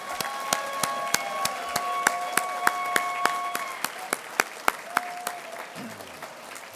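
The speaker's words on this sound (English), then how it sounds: "Now it's our turn to give all of these folks a big round of applause." An awards ceremony crowd applauds honorees. The clapping is sparse and rhythmic, with some sharper nearby claps toward the end and faint background sound in the room.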